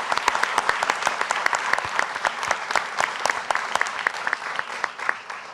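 Audience at a Kentucky gubernatorial debate between Andy Beshear and Daniel Cameron gives a round of applause in an auditorium, dense crisp claps close by, sustained and even throughout.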